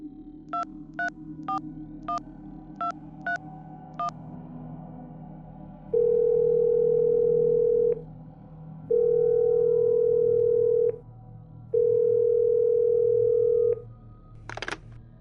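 Telephone call to a friend's home: a quick run of eight dial beeps, then three long steady ringback tones with pauses between them, ending in a brief high click.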